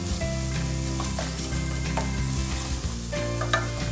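Butter chicken curry base of ginger and garlic paste sizzling and frying steadily in a pan, a loud continuous crackle with occasional stirring scrapes and no talking.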